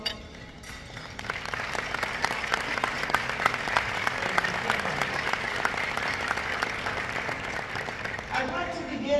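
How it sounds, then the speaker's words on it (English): Guests at an awards brunch applaud the event's organizers, clapping starting softly, then swelling into a full, sustained round across the room with some voices mixed in. "Can the organizers for this brunch please stand so we can give you a round of applause?"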